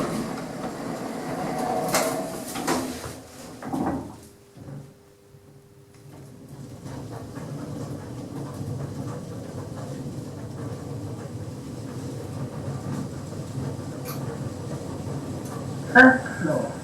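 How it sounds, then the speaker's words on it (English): Lift doors slide shut with a few clunks, then the elevator runs upward with a steady low mechanical hum and faint rattles, ending with a soft chime, under a recorded voice announcement. "doors open, going up, doors closing,"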